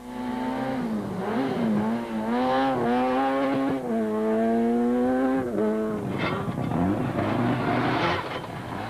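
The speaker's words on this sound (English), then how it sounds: "As a jubilant Fecken screams past knowing second is in the bag, Rueda had to recover his car." A rally car at the Tour Natal 2006 rally screams past close by, its engine wailing loudly as it revs up and down through gear changes for several seconds.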